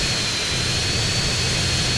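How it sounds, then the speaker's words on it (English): A jet-powered plane flown in the video game GTA San Andreas gives a steady, loud engine roar with a high whine running through it, continuous and unbroken. "It's just a seriously cool plane to fly, though."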